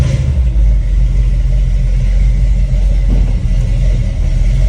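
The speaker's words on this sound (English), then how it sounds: "I'll turn the volume down on that so you can hear this thing rumble" A 1960 Ford F-100 Stepside restomod truck idles with a loud, steady low rumble, deep and close-miked, holding even throughout with no speech.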